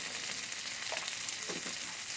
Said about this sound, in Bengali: টমেটোটা ভালো করে ভেজে নেবো